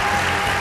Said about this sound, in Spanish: Un aplauso para recibir a Felipe Lobert.